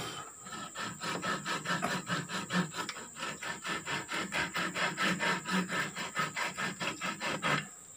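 A small hand saw cuts through wood in steady back-and-forth strokes, each pull and push a dry rasping stroke, close up and alone at an even rhythm throughout.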